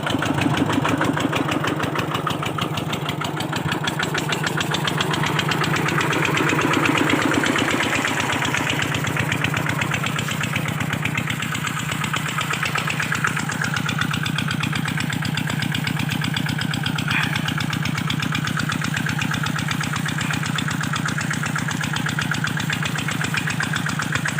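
A water pump engine runs steadily, pumping water onto a khok nong na farm plot, with a loud, continuous mid-pitched drone and faint knocking that holds nearly unchanged throughout.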